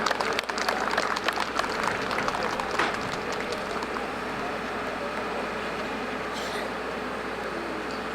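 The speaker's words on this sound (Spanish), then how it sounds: "Fuerte los aplausos para la mamá de la quinceañera." Guests applaud the quinceañera's mother at a fifteenth-birthday party, a loud burst of clapping in the first few seconds that thins out into steady room noise.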